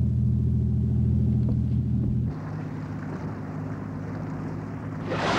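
Diesel engine of a boat at sea, a loud low droning rumble with a tonal hum that drops to a softer, wind-washed engine drone partway through, then swells with a rushing noise at the end.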